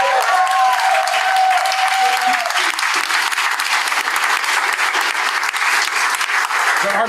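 Strong, continuous applause from a crowd at an anti-colonial free speech rally, with a voice briefly heard at the start before the clapping carries on steady and loud to the end.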